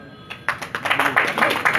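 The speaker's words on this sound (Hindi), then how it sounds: "एक बार जोरदार तालियों से स्वागत करें।" A handful of distinct, fairly close claps pick up after a brief quiet at an Uttar Pradesh election rally welcome, quickly building into scattered uneven applause.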